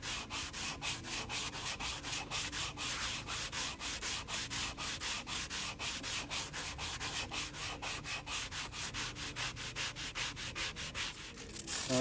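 Steady back-and-forth sanding strokes on a wooden Beetle Cat half hull model, a rhythmic rasping scrub repeated many times, close and even, with no talk.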